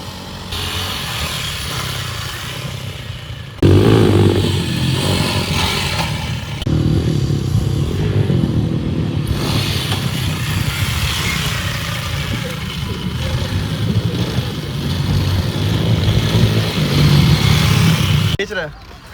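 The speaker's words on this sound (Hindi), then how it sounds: "चलो स्वाति भाई KLX चला रही ह" A Kawasaki KLX motorcycle engine running steadily close by, a continuous mid-pitched rumble lasting throughout, with people talking over it.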